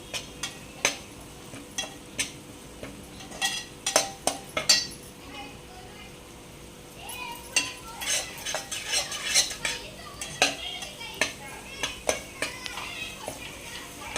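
Coconut paste being stirred and sautéed in oil in a pan for an Agri-style chibori curry, with a steady run of sharp spoon scrapes and clinks against the pot over a soft sizzle, close and fairly loud.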